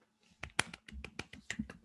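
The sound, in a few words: hands clapping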